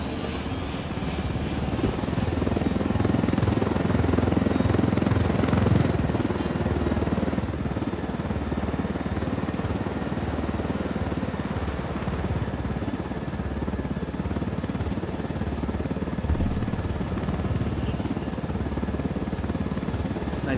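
A helicopter flies in Ghost Recon Wildlands with a steady, loud rotor drone and engine hum that holds throughout, carrying supplies to rebels fighting a cartel.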